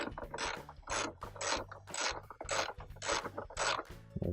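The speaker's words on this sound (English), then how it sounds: "now we'll tighten all the bolts down" Rapid ratchet clicking in steady bursts while bolts are tightened down on a Kenmore washer counterweight, close and loud with short pauses between strokes.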